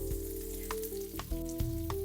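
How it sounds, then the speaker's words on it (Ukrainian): Steady frying sizzle of thin pancakes in oil in a hot pan, with a constant low hum and a few clinks of utensils, no voices. "Смажимо наші млинці."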